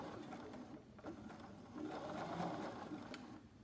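A sewing machine runs steadily, stitching a 1/8 inch seam around a fabric surgical cap, its motor hum and needle chatter close and continuous, with small shifts in speed as the fabric is guided.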